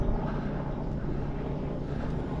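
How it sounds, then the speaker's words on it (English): A helicopter passes over hill country on the hike from Bandipur to Pokhara in Nepal, giving a steady, fairly loud droning rumble that fills the whole moment without talk. "Helicopter going by, hope that's not a rescue."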